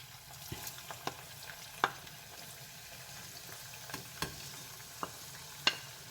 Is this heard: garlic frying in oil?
yes